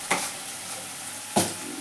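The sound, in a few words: onions frying in oil in a pan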